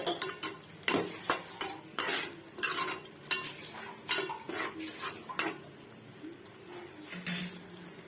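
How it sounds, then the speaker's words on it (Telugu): A spoon stirs spices into a mushroom mixture in a pan, making a string of close scraping clinks and knocks against the metal over a faint sizzle. "ఇదంతా ఒకసారి కలిపేద్దాము."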